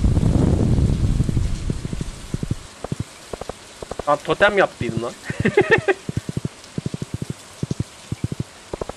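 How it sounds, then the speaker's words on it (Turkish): Rain falling in the farming video game Stardew Valley, a steady patter under rapid short ticking hits, with someone talking over it partway through. "Yağmur yağıyor."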